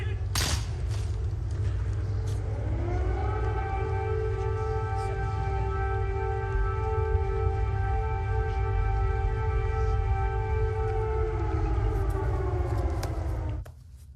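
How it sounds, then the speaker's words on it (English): A wailing air raid siren in Kyiv rises in pitch and holds a long, steady tone over a constant low rumble, then cuts off abruptly near the end. "Note the air raid sirens in the background."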